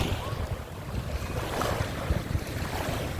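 Water waves at Khanpur Dam lap steadily along the shore, a continuous broadband wash mixed with gusty wind rumbling on the microphone, fairly close and moderately loud with no talking.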